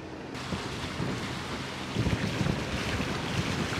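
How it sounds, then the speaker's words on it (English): A sailboat motors under engine straight into the wind along a narrow channel, with a steady low engine drone blended into heavy wind buffeting and water rush, with no voices. "We're motoring still because we're beating directly into wind in a narrow channel"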